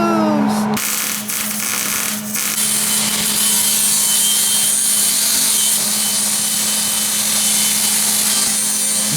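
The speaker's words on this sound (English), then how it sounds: "Chow is notching the pipe with a grinder with a flap disc" An angle grinder with a flap disc notches steel pipe for a roll cage, a loud, continuous harsh grinding whine running nearly the whole time after a brief start, close up with no talk.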